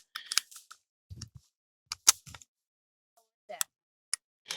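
A rifle magazine being worked into place gives a few sharp, close clicks and snaps, spaced irregularly with short quiet gaps between them.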